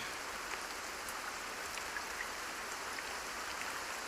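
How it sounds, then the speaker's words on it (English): Steady rain pours down in a storm, a dense, even hiss of drops hitting the ground with faint scattered patters, continuous and unbroken with no voices. "The rain turned the ground into mud."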